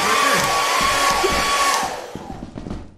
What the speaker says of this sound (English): Hair dryer